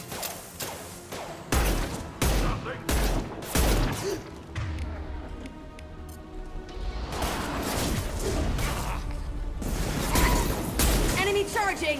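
Gunfire and impacts in the video game Mass Effect 2, bursts of shots and crashes over a constant battle din and music, with voices talking over it.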